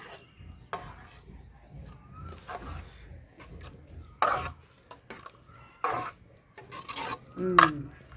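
Intermittent scraping and clinking of a spoon stirring tomato pulao rice in a metal pot, a few louder strokes spaced apart over quiet background.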